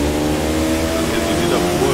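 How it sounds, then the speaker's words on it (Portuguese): Motorcycle engine in the racing game The Crew 2, loud and steady with a dense harmonic drone and a slight pitch shift as it drops gears, filling the whole stretch with no clear voice over it. "A reduzir essa moto aqui também é gostosinho, ô Mike"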